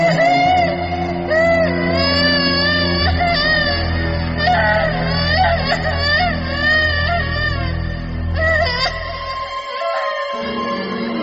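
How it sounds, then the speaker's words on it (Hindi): A child's wailing, drawn-out crying echoes as if rising from deep inside a well, loud and continuous with layered sobbing tones over a low droning background, cutting off abruptly near the end. "ये किसी बच्चे के रोने की आवाज थी।"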